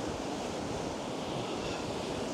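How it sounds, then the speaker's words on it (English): Seawall at Blackpool with waves crashing and whipping against it, a steady roaring surf wash mixed with wind buffeting the microphone, with no voices. "Look at the way those waves are whipping up against the seawall here."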